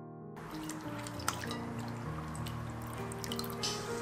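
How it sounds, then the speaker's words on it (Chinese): Potato slices soaking and being washed in clear water, a close, continuous splashing and dripping with a few sharper drops, no voices. "放在清水里浸泡清洗干净"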